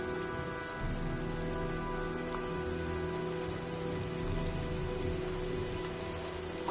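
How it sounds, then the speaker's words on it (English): Steady heavy rain falling during a storm in the video game Heavy Rain, a continuous even patter with a low background hum and no talk. "looks like a storm's coming"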